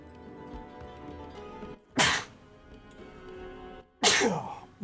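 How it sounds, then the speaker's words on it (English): A person sneezes twice, about two seconds apart. Each sneeze is a sharp, loud burst rising out of quieter background sound. "Oh god, I gotta sneeze."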